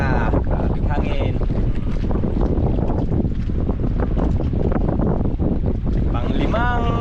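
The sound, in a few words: strong wind at sea on a fishing boat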